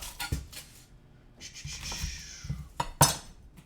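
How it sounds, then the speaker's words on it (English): A knife trims an onion on a cutting board while zucchini pasta is prepared, giving several quick, close taps and clinks, with a sharper knock near the end and no talking. "So let me get my onion trimmed down real quick."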